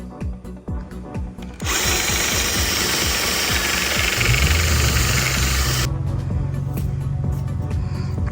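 A power drill with a 3/8-inch bit whirs loudly and steadily for several seconds while drilling a bolt hole in a pontoon boat, its motor pitch dropping as it bites, with faint clicks before and after.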